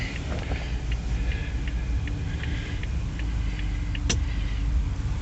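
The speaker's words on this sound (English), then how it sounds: "Motor's running better and better all the time." A 1994 Jaguar XJ12 V12 engine idles steadily, a low even rumble close by, with faint repeated ticks and a brief click near the end and no talking.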